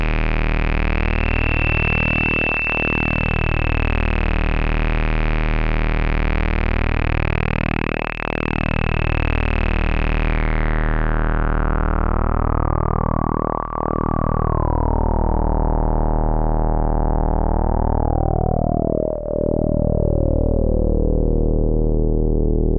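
A u-he Hive 2 software synthesizer plays a sustained buzzy tone from ramp-down and ramp-up wavetables, loud and continuous, with a rhythmic phasing pulse while the bright upper edge steps downward several times.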